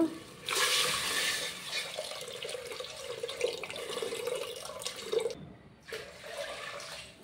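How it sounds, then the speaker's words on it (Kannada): Water is poured into a pot of rice for chicken pulao, a close, splashy stream that runs for several seconds, breaks off abruptly and then returns briefly. "ಇವಾಗ ನೀರು ಹಾಕ್ತಾಯಿದ್ದೀನಿ ನೋಡಿ"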